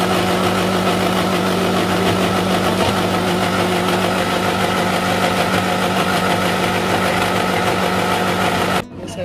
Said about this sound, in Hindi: चटनी बनाने के लिए ग्राइंड करने लगी।